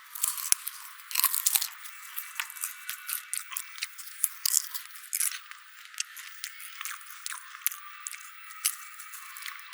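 Crunchy snack chewing inside a cinema, close and quiet, with irregular bursts of crisp bites and crackles repeating over soft background hiss.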